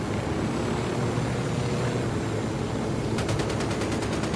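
Gunfire in the video game Ghost Recon Wildlands: a rapid burst of shots breaks in near the end over a steady, loud aircraft-like engine drone.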